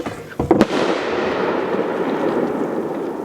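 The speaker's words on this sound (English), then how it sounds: "Oh, the neighbors are setting off fireworks apparently." Neighbors set off fireworks outdoors near a campsite: a few sharp pops burst early on, then a steady crackling rumble continues, moderately distant.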